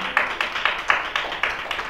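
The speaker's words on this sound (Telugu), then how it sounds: "చప్పట్లు కొట్టండి అందరు గట్టిగా." A church congregation claps loudly during a sermon, a steady run of sharp, evenly spaced hand claps heard from a moderate distance.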